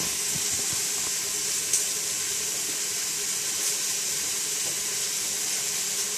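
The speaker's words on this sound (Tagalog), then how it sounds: "bubuhusan ko ng kunting rice wine" Rice wine poured over dried abalone in a kitchen, a steady soft liquid hiss and trickle running evenly throughout with no talking.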